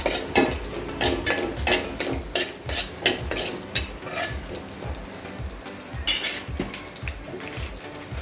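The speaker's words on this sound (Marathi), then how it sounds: "साजूक तूप एक चमचा मी इथे तूप टाकलेलं आहे त्याच्यामध्ये जाणार हे काजूचे तुकडे ते थोडेसे असे फ्राय करून घेणार" Cashew pieces fry in a spoonful of ghee for Marathi ukdiche modak filling, giving a steady close sizzle with repeated scraping stir strokes against the pan, loud and continuous with no talking.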